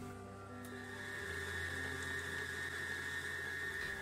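A stand mixer fitted with a paddle hums steadily with a low motor drone and a faint whine, running continuously at moderate volume while mixing chicken breast.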